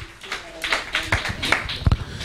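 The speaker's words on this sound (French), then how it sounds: "Applaudissez un peu notre Jéhovah" A church congregation claps along during a sermon, uneven bursts of hand claps with a few louder strikes near the end, fairly close and without speech.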